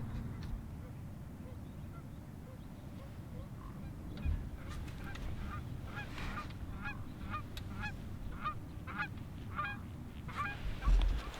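Geese honking during a waterfowl hunt, a loose series of repeated calls from a flock at middle distance that builds partway through, over low outdoor rumble with brief human voices.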